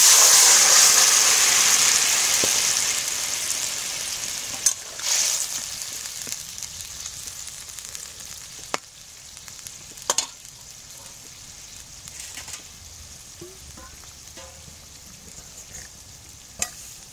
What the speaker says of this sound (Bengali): তরকারিটা ঢেলে দিচ্ছি